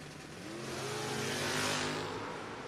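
Drag race cars, including a 1990 third-generation Camaro, launching at a No-Box 660 Shootout, as a loud roaring engine swell rises and peaks, then slightly fades as the cars pull away.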